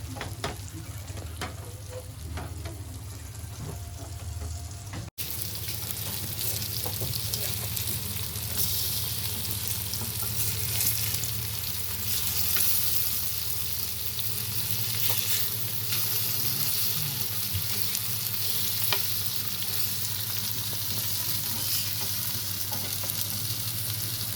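Pomfret fish coated in rava shallow frying in oil on a tawa, Malvani style. A loud, steady, continuous sizzle runs throughout, with a brief cut early on.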